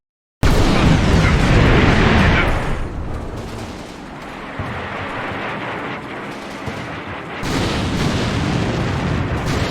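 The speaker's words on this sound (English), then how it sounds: "this section, which is where our artillery finally arrives" Artillery barrages hit in a wargame video game, a loud sustained roar of overlapping booms and explosions that eases slightly, then surges again.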